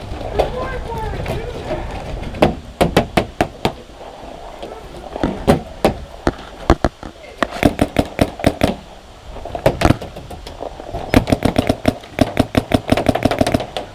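Paintball gun shots during a game at a combat paintball park, rapid sharp popping bursts, close and loud, with talking in between.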